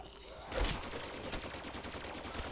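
Rapid gunfire in Call of Duty 3 zombies starts abruptly and continues as a dense, rattling stream of shots, loud and close, with faint game noise beneath.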